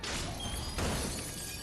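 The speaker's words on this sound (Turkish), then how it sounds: "camı da çatlattın aferin" Glass cracking in the PS5 game Uncharted 3: Drake's Deception, a brief crunching crack that breaks through dense, constant game noise, with no voices.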